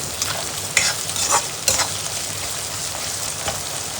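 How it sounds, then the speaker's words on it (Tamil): Onions sautéing with salt in a pan are stirred, giving a steady close sizzle broken by a few scraping stir strokes, with no voices. "உப்பை நல்லா ஒரு மிக்ஸ் கொடுத்துக்கிறோம்."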